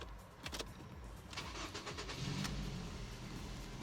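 A used car bought at a BCA auction cranks and starts, its engine catching and settling into a steady idle at close range, with no talking.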